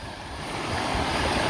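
Waterfall on the Suwannee River at Charles Springs, a steady broadband rush of tumbling water that swells slightly louder over a second and a half, with no voices.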